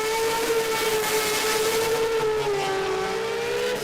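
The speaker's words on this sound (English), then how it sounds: "Friday night burnouts" Car doing a burnout at a Friday night drag racing event, a loud sustained engine roar with a steady high whine and tire noise that holds without a break throughout.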